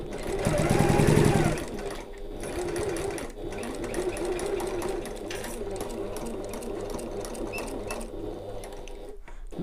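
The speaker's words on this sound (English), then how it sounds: "Just going to sew along here as far as we can," A sewing machine stitches fabric for a getaway bag, a loud close burst at the start easing into a steady, continuous whirring run that lasts throughout.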